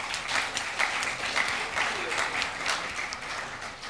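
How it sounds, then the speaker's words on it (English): An audience at a public panel discussion on the city's water future applauds the panellists, with steady, moderately loud clapping across the room that fades slightly toward the end. "Again, a round of applause for our panellists."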